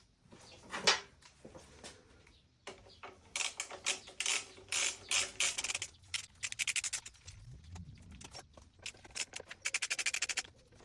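Hand tools work on the exhausts of a 1990s motorcycle: quiet, close ratchet clicks come in quick bursts with metallic fiddling and brief pauses between them.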